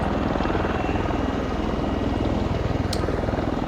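A V-22 Osprey tiltrotor aircraft hovers close by in Australia, its heavy rotor thump and engine roar steady and loud throughout, with a brief higher whine near the end.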